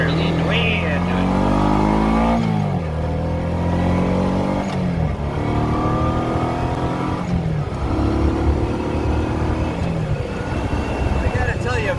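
A 1990 Honda Pacific Coast 800 motorcycle, 32 years old, is being ridden. Its engine drones steadily and loudly, rising and falling in pitch as it accelerates and shifts gears, with wind noise and a rider talking over it throughout.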